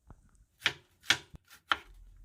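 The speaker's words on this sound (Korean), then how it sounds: "양배추도 채 썰어주세요" A knife cuts cabbage into thin julienne strips on a board, giving four or five crisp, separate chopping strokes, close and fairly quiet, with no voices.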